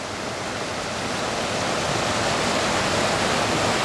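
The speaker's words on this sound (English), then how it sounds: "water speeds up when it flows through the narrow or shallow part of the river" Shallow river water rushes through a narrow stretch just upstream of a waterfall, making a steady, loud, broadband roar that holds constant throughout with no voices.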